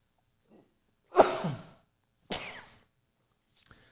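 Two sharp, breathy bursts a second apart, close and fairly loud, like sneezes or harsh coughs, followed by a faint click; otherwise near silence.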